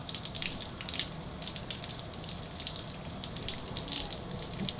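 Water from a tap running steadily into a very dry, small potted plant's soil, a continuous close splashing trickle with no talk.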